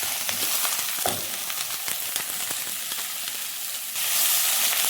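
Finely chopped medium onions sizzle in a pan of oil for a Kerala-style chicken curry with coconut milk, a close, continuous frying hiss broken by scrapes and stirs and swelling louder near the end.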